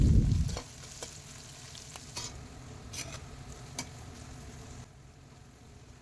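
Onions with green chillies and turmeric fry in hot oil, a soft continuous sizzle broken by intermittent scraping stirs of a spoon against the pan, close and fairly quiet after a brief louder knock at the start.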